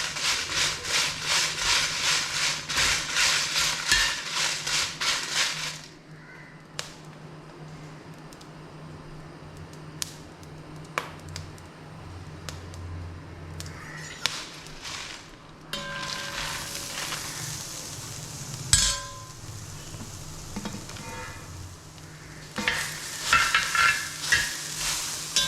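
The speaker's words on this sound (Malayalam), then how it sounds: "അപ്പം നേരത്തെ നമ്മുടെ കുരുമുളക് പൊട്ടണ ഒച്ച കേട്ടല്ലോ" Whole black peppercorns roasting with dried chillies in a hot pan, stirred in bursts of scraping and sizzling, with sharp scattered pops and crackles standing out in the quieter stretches between stirring.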